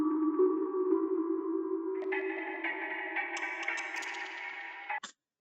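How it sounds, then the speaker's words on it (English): Drippy layered synth lead in a drum and bass remix, sustained tones sliding upward with bright watery upper layers, ending in a short sharp cutoff; moderately quiet and heard alone without talk. "we've got this more drippy kind of sound that's layered with the original"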